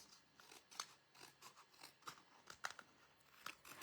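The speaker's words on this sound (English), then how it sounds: "I'll just trim off a little bit around each side." Scissors snip the edges of a handmade paper card in a quiet room, giving a string of soft, crisp cuts spaced irregularly, a few sharper than the rest.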